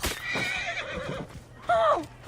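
A horse whinnies in Assassin's Creed Origins, two loud drawn-out neighs close by with a brief pause between and faint hoof clip-clop underneath.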